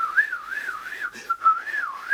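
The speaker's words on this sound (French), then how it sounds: "Ouais, j'ai du mal à siffler aujourd'hui." A person whistles a wavering tune alone, the melody rising and falling smoothly in a steady, fairly close and moderately loud line for a couple of seconds, with a brief dip in the middle.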